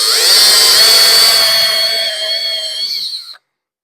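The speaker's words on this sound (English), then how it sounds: "When you drill it, just start it with this." A handheld power drill boring a hole in metal during an air ride installation on a 1962 Chevrolet C10 truck, a loud, close whining spin that holds steady, then winds down and stops abruptly.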